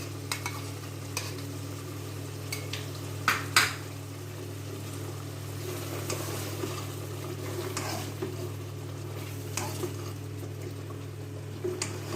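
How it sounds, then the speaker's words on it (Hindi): Mutton frying with yogurt (dahi) in a pan gives a steady low sizzle over a constant hum, with intermittent scraping and stirring clatters, a couple of louder knocks near the start. "दही डाल के कुछ देर के लिए हम भूनेंगे इसे।"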